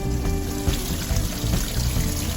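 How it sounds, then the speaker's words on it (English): Hot water rushes steadily into a washing machine drum on a short cycle, a continuous close pouring and splashing stream that holds an even level throughout with no talking. "we're going to fill the water back up"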